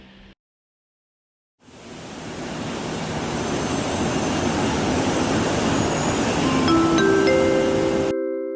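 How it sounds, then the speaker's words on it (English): Train pulling away from a station: a steady rising rush of rolling wheels and rail noise that builds and holds loud, with faint tonal squeals or hums near the end, after a brief quiet gap. "The train is about to leave the station."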